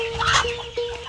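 A hen returning to her nest of husk over partridge eggs gives a few short, close clucks in quick succession, with no talking.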